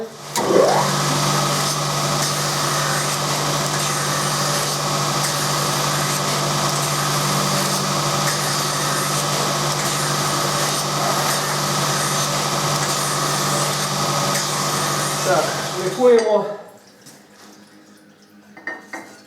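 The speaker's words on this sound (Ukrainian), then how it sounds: "Пошліфував я, значить, по площинах їх і одну сторону вже тут шліфанув." A power sander runs steadily with a buzzing, grinding whir for most of the clip, then shuts off and winds down near the end.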